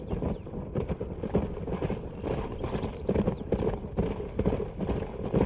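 Horses trotting in the video game Red Dead Redemption, a steady rhythmic clip-clop of hooves that carries on throughout at moderate loudness.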